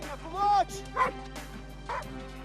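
An avalanche rescue dog barks during a snow search: several sharp, close barks with a yelping, whining edge, coming in short bursts separated by brief pauses.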